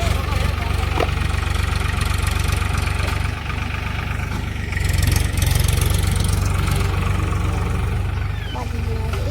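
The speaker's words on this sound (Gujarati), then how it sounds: "ટ્રેક્ટર તો પેલી સાઈડ જતું રહે જો" A tractor engine working a potato-planting field runs in a loud, steady low chugging throughout, with voices heard over it.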